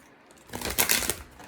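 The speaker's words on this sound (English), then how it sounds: "I like the feeling of shuffling cards" Large tarot cards being shuffled by hand, a quick burst of riffling card snaps rising to a clear flurry midway and then settling, close and alone with no talk.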